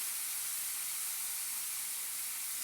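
Eggplant frying in hot oil over a lowered gas flame gives a steady, even sizzle with a soft, constant hiss and no talking.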